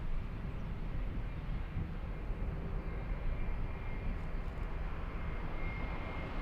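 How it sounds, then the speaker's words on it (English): A small Lufthansa airliner takes off at Frankfurt airport, a faint, distant, steady engine rumble rolling on without a break. "there goes the little one. Let's go for the little Lufthansa."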